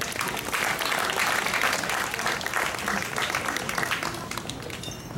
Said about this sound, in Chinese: 再给我一点掌声好吗？